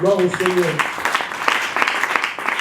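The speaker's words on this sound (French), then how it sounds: "Est-ce qu'on peut applaudir le Seigneur?" Congregation clapping at a pastors' consecration service, a dense broadband patter that follows a brief spoken phrase and continues steadily to the end.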